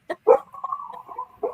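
A dog gives a short yelp followed by a drawn-out whining, howl-like cry, close and moderately loud, with no talking.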